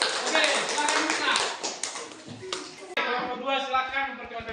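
A classroom group claps for the first presenting team during an Indonesian practical session, with quick close hand claps that taper off as voices and other sounds take over in the second half.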